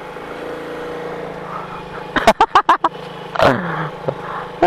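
A motorcycle engine idles steadily with a low hum, broken by a quick series of loud bursts and a brief rev near the middle.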